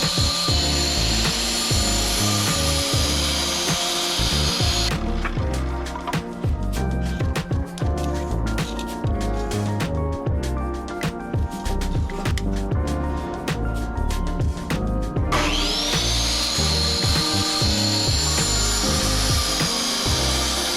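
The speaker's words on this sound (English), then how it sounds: "First, I'll measure and cut all my 2x4s." A saw cuts through 2x4 wooden boards for a simple bench build, with steady sawing and tool noise running through the whole stretch, loud and close, easing into a denser rasping passage midway before returning.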